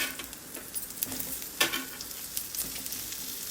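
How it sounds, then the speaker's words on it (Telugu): Steady sizzling of sliced onions frying in hot oil, with occasional stirring clatter and crackles, close up. "ఇందులోనే ఉల్లిపాయ ముక్కలు కూడా వేసి వేయించుకోవాలి"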